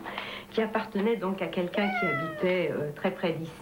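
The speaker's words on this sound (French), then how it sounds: "la chatte grise aux allures de chartreux qui ne la quitte jamais" A grey Chartreux-like cat meows a few times, close and clear, while someone speaks French over it.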